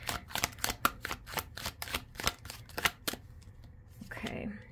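A sticky tarot deck is shuffled in a steady run of sharp, close overhand clicks and slaps, about a dozen in a row, then it stops and a voice begins speaking.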